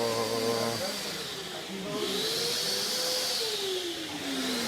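A treadmill machine in a gym runs with a continuous motor whir whose pitch slides up and down, heard close and fairly loud throughout.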